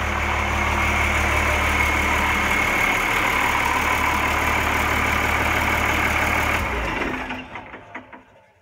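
A converted bus engine idles after an oil change, a loud steady mechanical drone that runs evenly for several seconds, then shuts down and rattles to a stop.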